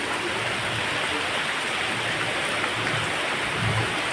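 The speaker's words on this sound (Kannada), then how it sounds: "ಮಳೆ ಬರಲಿಕ್ಕೆ ಶುರುವಾಯಿತು" Steady rain falls in a continuous, even hiss with no distinct drops standing out, moderately loud and unbroken throughout.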